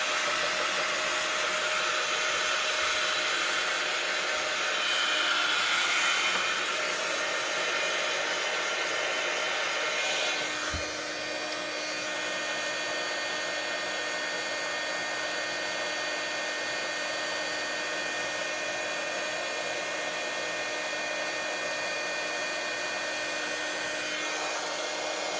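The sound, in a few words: hair dryer drying a mixed media journal cover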